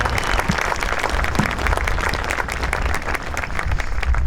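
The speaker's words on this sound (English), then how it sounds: "Let's give her a round of applause," Audience applause at a Veterans Day ceremony in Belleville, Illinois, a dense, steady crowd clapping that fills the whole stretch without letting up, loud and close, with no voices rising above it.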